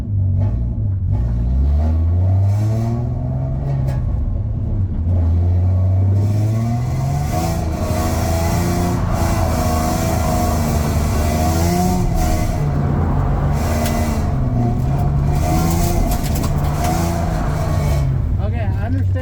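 A Mustang drift car's engine revs hard and rumbles on a rainy day as the driver clutch-kicks, pitch climbing and dropping in repeated loud pulls, with a voice talking over it.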